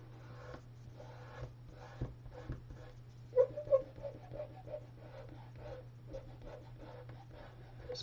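Soft, scratchy pencil strokes on paper come in short, irregular bursts, faint and close, over a low steady hum.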